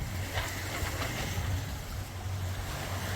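A sailboat's single engine idling on tick over while sailing at sea, a low steady rumbling hum beneath continuous wash of waves and wind, with no voices.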